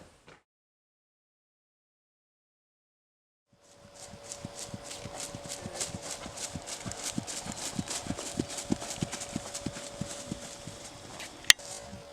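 A horse trots in a clean two-beat gait, its hoofbeats a steady, even clip-clop at moderate distance after a few seconds of silence, with no talk over them.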